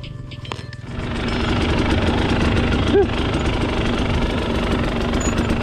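Husqvarna TX300i two-stroke dirt bike engine held at full throttle while climbing through thick sand in the desert at night, a loud, steady, strained drone that swells after the first second and stays close and continuous.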